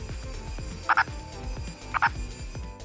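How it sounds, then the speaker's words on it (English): A purple frog, also called a pignose frog, from the Idukki district of Kerala, India, gives two short, loud croaks about a second apart. They rise over a steady, busy backdrop of night chorus and low rhythmic pulses. "This here is called a purple frog, or pygnose frog, and it's a one in a century find."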